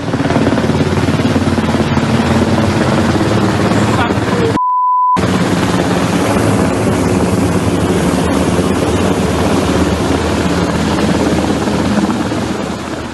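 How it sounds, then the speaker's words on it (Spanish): A military helicopter flies over a city, a steady loud rotor drone that fills the whole stretch, broken by one brief gap with a short beep. "al menos un helicóptero militar sobrevolando la ciudad"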